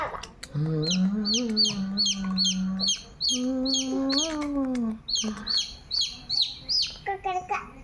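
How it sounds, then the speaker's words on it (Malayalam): Baby chicks cheep in quick, high, repeated peeps while a person's voice talks or croons underneath nearby. "കുഞ്ഞു കുഞ്ഞു കുഞ്ഞു കുഞ്ഞ് കോഴിയുടെ കുഞ്ഞ് കുഞ്ഞു"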